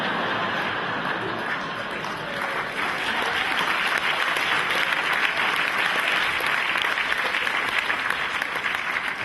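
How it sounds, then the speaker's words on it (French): A comedy show audience bursting into sustained, dense applause that swells and holds steady, with faint chuckles mixed into the crowd. "Et au-dessus aussi, hein, vous pouvez applaudir."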